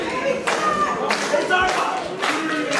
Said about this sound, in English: Crowd now getting behind Hughesy.